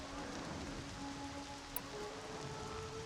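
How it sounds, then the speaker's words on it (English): Steady rain falls in Horizon Zero Dawn, a continuous soft hiss of drops on surfaces with faint tonal background elements and one brief high blip. "It's kind of raining here."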